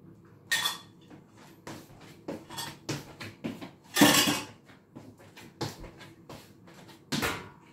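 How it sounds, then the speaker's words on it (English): Mashing a mixture of butter and milk in a pot, heard as a string of irregular metallic clinks and scrapes of utensil against pot, close and moderately loud, with no one talking. "Keep mashing it."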